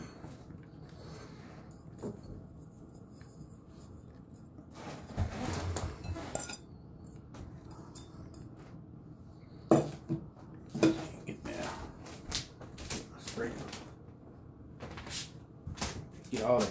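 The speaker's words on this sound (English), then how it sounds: "we're going to just go ahead and start mixing it" SPAM ball ingredients mixed in a bowl, with irregular clinks and scrapes of utensil against dish, soft at first and then busier and louder, while a voice talks over part of it.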